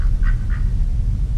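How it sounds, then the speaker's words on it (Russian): A lone drake swimming on water in a scenic spot of old stone quarries gives a few short nasal quacks, a quick cluster over low rumbling background noise. "Утка!"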